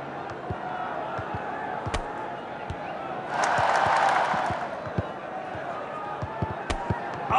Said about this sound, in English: And the crowd are well behind their team now.